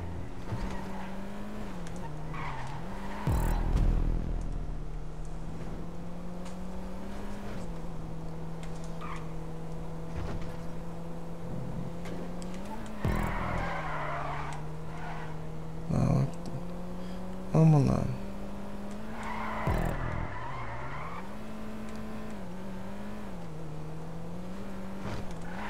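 Car engine in a GTA V race on PS4, droning steadily with revs rising and falling, brief tire squeals and skids breaking through as the car drifts through corners, game music faint underneath.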